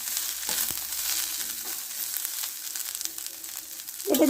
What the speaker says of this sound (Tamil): சேர்த்துட்டு ஒரு 2 நிமிஷம் போல் நல்லா வறுத்து விட்டுடலாங்க.